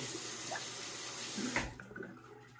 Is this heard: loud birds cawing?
no